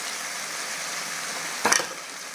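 Potatoes and tomatoes fry in a pan for a village-style aloo tomato curry: a steady, even sizzle runs throughout, broken near the end by a brief louder scrape of stirring.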